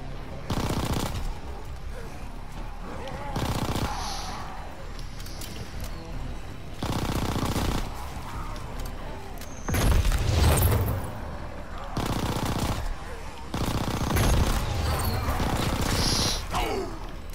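Bursts of automatic gunfire in Call of Duty Zombies come in repeated heavy volleys with short pauses between them, while players talk over the shooting.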